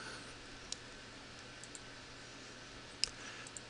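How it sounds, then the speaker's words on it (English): Sharp, isolated computer mouse clicks, a few scattered taps with one clearer click near the end, over a steady low room hum with no talking. "Now I want to click on New"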